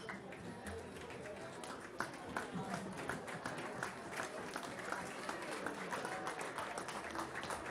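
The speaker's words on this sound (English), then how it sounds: "Round of applause to everybody helping, not just the medics, but all the players, all the fans." Crowd of fans applauding at an amateur rugby match between two clubs while an injured player is helped off the field; sustained scattered clapping with some talk mixed in, steady and moderately distant.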